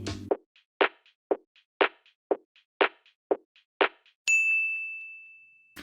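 A sparse drum loop, exported and filtered in FL Studio, plays evenly spaced muffled hits with lighter ticks between them, then ends on a sustained bright electronic tone.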